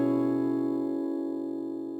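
A single guitar chord from a song, an open A with fretted 9th and 8th notes, rings out steadily and fades slowly over a couple of seconds, close and alone.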